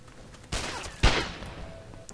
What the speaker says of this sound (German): Die schießen einmal